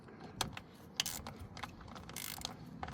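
A ratchet snugs throttle body bolts to about 8 foot-pounds on an LS engine, giving short bursts of sharp, close clicking separated by brief pauses, with no talking.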